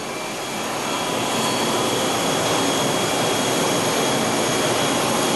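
A machine in a piston and engine-parts shop cutting rocker stud girdles gives off a loud, steady broadband roar, like rushing air, that builds slightly over the first second and then holds constant close by, with no talking.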